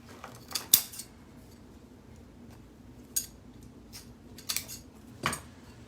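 Scissors snip through ribbon tails for a decorative swag: a handful of sharp, close clicks spaced irregularly, with a double snip near the start and a few more later, in an otherwise quiet room.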